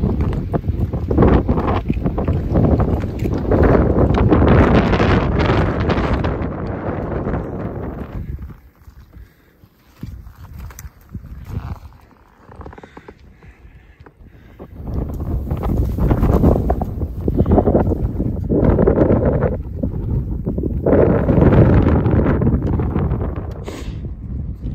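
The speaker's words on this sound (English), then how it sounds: "It's kind of windy" Gusty wind in the alpine near a lake buffets the microphone in loud, broadband rumbling bursts, dropping briefly to a quieter lull midway before roaring back.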